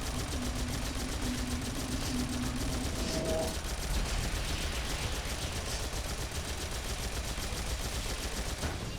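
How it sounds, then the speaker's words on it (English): Rapid turret gunfire in Phantasy Star Online 2, a continuous mechanical stream of shots that runs without pause across the whole stretch, loud and close. "you can just fire it off like a turret"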